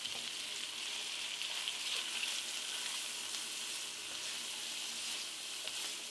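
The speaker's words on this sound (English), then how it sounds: "I'm going to cook that onion down for about 2 or 3 minutes." Diced onion sizzles in a pan alongside browned meatballs, a steady, close, bright crackling hiss that continues evenly throughout with no voices.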